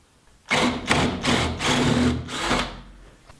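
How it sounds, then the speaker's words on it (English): A power drill boring a hole through a wooden workshop door for a lock, running in five short bursts of about half a second each, loud and close, with brief pauses between them. "I'm going to have to drill a little bit further than right here"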